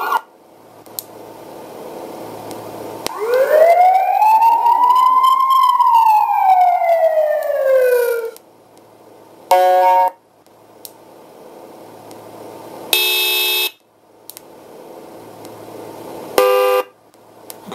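ESS One Plus electronic siren and horn unit: a loud rising-and-falling siren wail, then several short, separate horn blasts with quieter gaps between them.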